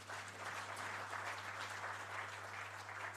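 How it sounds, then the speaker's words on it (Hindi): An audience at a book launch applauds in a steady, dense wash of clapping that holds evenly throughout, moderately loud, with a low constant hum beneath it. "इतने बड़े संभ्रांत वर्ग अभी ताली बजाकर आनंद व्यक्त करता है।"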